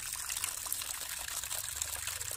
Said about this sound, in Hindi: इसमें थोड़ा सा पानी डालेंगे ताकि सर्फ थोड़ा सा मिक्स हो जाए